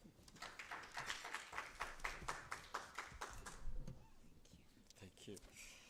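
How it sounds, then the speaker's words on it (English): An audience applauds a guest speaker at a university festival, with scattered claps that start dense and thin out toward the end, heard at moderate distance. "And a round of applause"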